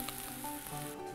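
Peppers dropped into a hot frying pan with potatoes for a Ramadan kebab, a quiet, continuous sizzle with soft crackles throughout.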